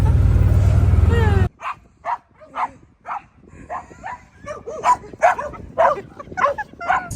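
A dog on a farm whimpers and yips in a string of high, whining cries and short barks, close and fairly loud, following a burst of loud low-pitched noise at the start.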